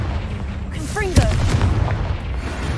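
A Confringo blasting curse explodes in Hogwarts Legacy, a single loud boom with a sharp crack about a second in. It follows rising whistling spell tones and sits under a continuous rumbling background, with a voice speaking nearby.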